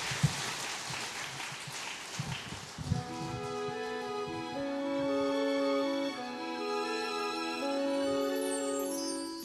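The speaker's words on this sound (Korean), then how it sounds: "박수 부탁드립니다." Audience applause at an orchestra concert: a broad, crackling burst of clapping that thins out over about three seconds before sustained orchestral music begins.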